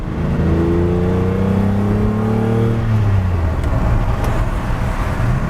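A Lamborghini Countach engine, loud and close, revs up with rising harmonic whine, then settles into a steady roaring drone with road noise on a wet road.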